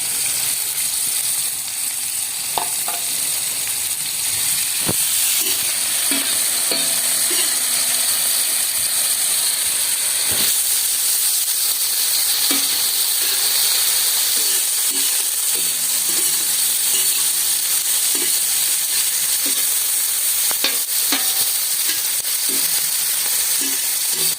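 Chopped green chillies fry on a hot tawa in a village kitchen with a steady, close, continuous sizzle. Scattered clicks and light scraping from stirring run through it, and no one speaks.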